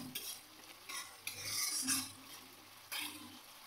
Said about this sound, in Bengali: মশলাটা কষিয়ে নিই।